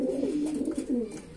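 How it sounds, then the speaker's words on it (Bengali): A large male grizzle pigeon coos in a low, warbling, rolling call that rises and falls, close and fairly clear. "সবচাইতে বড় কবুতর হচ্ছে এটা"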